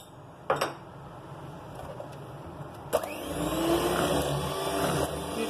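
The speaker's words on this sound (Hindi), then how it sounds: "फिर बीटर ऑन कर लेंगे" An electric beater whirs in a bowl of sponge cake batter with eggs, switching on after a couple of light clicks and then running as a steady mechanical whine.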